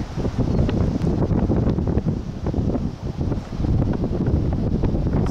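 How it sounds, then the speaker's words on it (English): Strong wind on a beach during a sea-angling competition at Enniscrone, buffeting the microphone in loud continuous gusts with no voices. "So windy."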